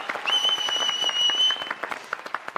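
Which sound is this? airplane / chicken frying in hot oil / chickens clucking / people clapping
people clapping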